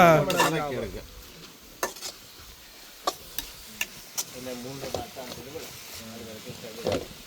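Chilli powder is stirred into food frying in a pan, with a scraping stir and sharp clinks of a spoon against the pan over a soft sizzle, while people talk at the start.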